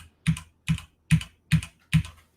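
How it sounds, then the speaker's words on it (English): Five separate keystrokes on a mechanical keyboard from a gaming PC, evenly spaced and close, each a crisp clack with silence between. "of course it came with a keyboard, mechanical keyboard, right?"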